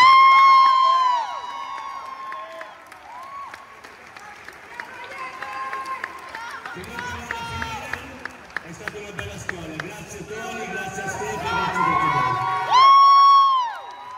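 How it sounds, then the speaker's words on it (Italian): A crowd at an Italian MMA fight, Giuseppe Mancuso versus El Toro, cheers and applauds, with whoops and shouts rising and falling around a loud announcer's voice. "con un grosso applauso"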